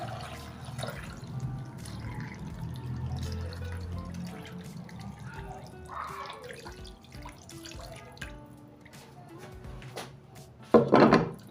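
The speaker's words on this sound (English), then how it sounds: "add water" Water runs and splashes into a pot holding lemongrass, pineapple peel and grated ginger for tea, with drips and a clatter near the end and no talking.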